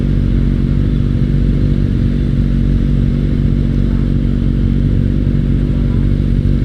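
Steady, loud Kawasaki Ninja ZX-6R motorcycle engine drone while riding, running hot, a constant low rumble without any voices.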